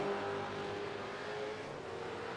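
Race-car engines in a sim racing game at Charlotte, a steady loud drone of engines at high revs with some pitch shifts as the cars run side by side, continuous and without talk.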